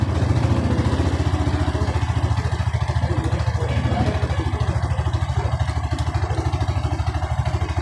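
Bajaj Maxima cargo three-wheeler engine running after repair work on its throttle cable and idle: a steady, close, loud rapid putter with clattering, alone without talk.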